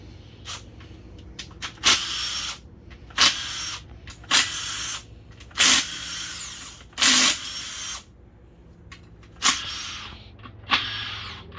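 An impact gun buzzes in about eight short bursts, each under a second with pauses between, as transmission bolts come off a 2003 Honda Accord during a teardown for a BAYA fault; close and loud, with no talk.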